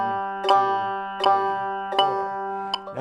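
A banjo plucks four evenly spaced quarter notes on the third string, each a sharp bright attack ringing into a steady sustained drone, close and alone without talk.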